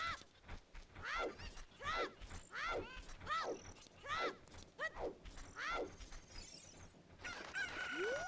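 Cucco chickens in a Zelda game crow over and over in quick succession, a rapid run of sharp rising calls, with mechanical creaking and other game effects toward the end.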